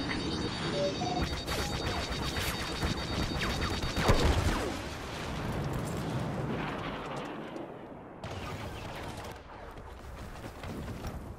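Loud game explosions and artillery-like blasts fill a Star Wars Battlefront battle, with a sharp missile impact near the middle, then rumbling debris that fades and swells again.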